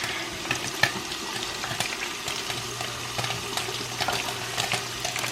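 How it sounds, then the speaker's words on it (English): Steady sizzling and crackling of onions frying in hot oil, a continuous bright hiss with scattered pops, fairly close and moderately loud, no voices. "They're frying just a little bit."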